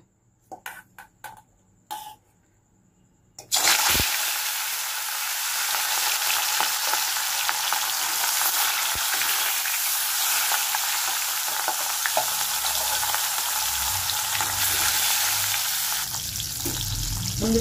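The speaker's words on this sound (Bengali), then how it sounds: "এবার আমি মাছগুলো ভেজে নেব" Katla fish fries in hot oil, a loud, steady, crackling sizzle that bursts in after a few quiet taps and carries on unbroken to the end, with no one talking.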